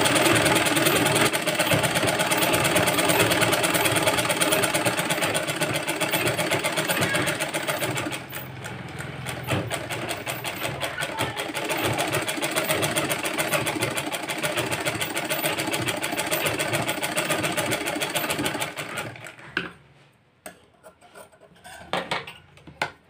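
Sewing machine stitching a blouse lining, fabric folded and fed under the presser foot: a steady close mechanical whir with fast rhythmic needle clatter for about nineteen seconds, then it slows and stops into near silence.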